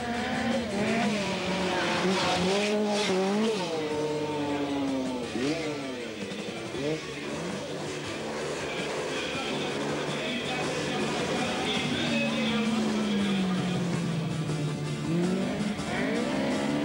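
A Heimbach Opel Manta rally car races on a 1985 Belgian rally championship stage, its engine revving hard and climbing and falling in pitch through repeated gear changes, with tire noise and a steady roar throughout.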